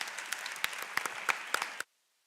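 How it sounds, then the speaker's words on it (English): A ceremony audience at a medical school white coat event applauds in a brief, moderately distant burst with a few sharper individual claps standing out, then cuts off suddenly into silence. "A round of applause for everyone who really worked it very hard."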